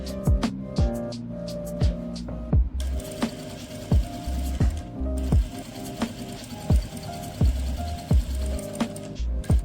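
A sewing machine stitches an Afghani salwar in quick bursts of rapid, close mechanical clatter, separated by short pauses and sharp clicks as the fabric is turned. No one speaks.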